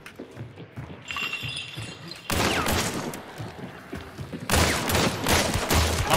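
Gunfire in the Hunt: Showdown video game, bursts of loud close shots and rapid fusillades with sharp clinks, including a wall-penetrating kill, over intermittent player chatter.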